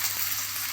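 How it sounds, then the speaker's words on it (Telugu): Green chillies fry in a few spoons of hot oil, giving a brief, steady, close sizzle with no voices. "ఇంకో పచ్చిమిర్చి అయితే వేగుతున్నాయి, ఇంకొంచెం వేగాలి."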